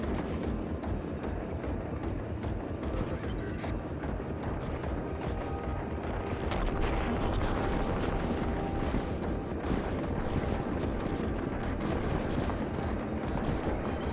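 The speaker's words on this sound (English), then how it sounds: "I am now a gigantic fan of garbage cannon. I love the noise and I love the effect." Trash cannon weapon in a video game fires in a dense barrage of heavy, booming blasts, loud and continuous with repeated percussive bursts throughout.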